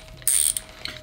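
A ratcheting screwdriver clicking, one short bright burst of ratchet-pawl ticks followed by a fainter second click, close and isolated with no talk.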